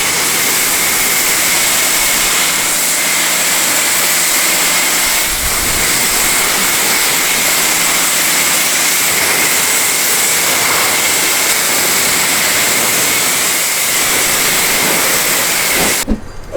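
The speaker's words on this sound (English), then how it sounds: "The nozzle actually has a higher decibel level than the pressure washer itself." AR Blue Clean Pro 675 electric pressure washer rinsing through its nozzle, a loud, steady broadband hiss and rush of spraying water that runs unbroken for about sixteen seconds before cutting off abruptly at the end.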